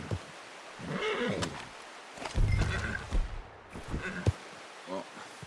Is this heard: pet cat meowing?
no